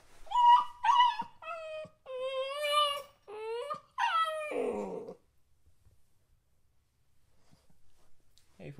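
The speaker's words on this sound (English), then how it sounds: "we don't want him to learn that his crying is a good thing." A small puppy in a crate at night whimpers and cries close up, a run of high, wavering yips and whines over about five seconds, then falls to near silence with faint rustling.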